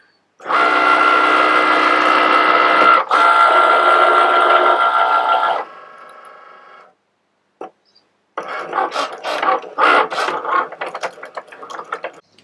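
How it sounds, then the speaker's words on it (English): A Cricut cutting machine cutting kitchen jar labels gives a loud, steady mechanical whir with a brief click, stops after several seconds, then returns as a series of choppier ratcheting movements, close and without talking. "press that and the machine will begin the cut"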